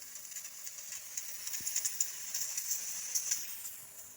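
Pressure cooker cooking rice gives off a faint, steady, high-pitched hiss with small fluctuating spurts, heard alone in a quiet room.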